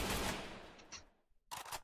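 Gunshots ring out in the Free Fire battle royale game, a burst of rapid fire that fades away, then a second sharp volley after a short pause.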